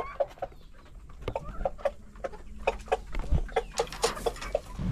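Pet chickens and a rooster cluck repeatedly nearby in short, evenly spaced calls, a small flock murmuring in the background.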